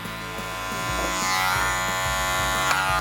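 Electric hair clippers buzz steadily and close up, cutting hair clipper-over-comb during a wavy curtains haircut, with a continuous motor hum that rises slightly in loudness as the blade works through the hair, no talking.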